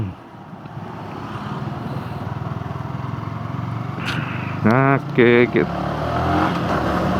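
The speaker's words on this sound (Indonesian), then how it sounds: "Dari sekali colek motor bisa langsung narik dengan cepat, akselerasinya nampol bener nih" A Yamaha R15 VVA motorcycle engine drones steadily under wind rush while riding, then gives a couple of short rising revs near the end; a voice speaks one brief word.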